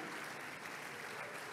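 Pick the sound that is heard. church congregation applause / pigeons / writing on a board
church congregation applause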